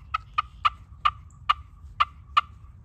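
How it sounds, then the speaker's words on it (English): Seven short, sharp turkey clucks pop out at an even pace from a slate friction call, close and crisp over a low hum. "Here's some clucks."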